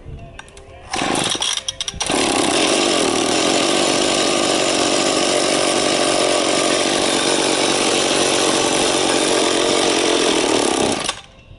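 A chainsaw with its choke out is pull-started with a few quick rips of the cord, then it catches and runs at a loud, steady high-pitched roar for several seconds before cutting off.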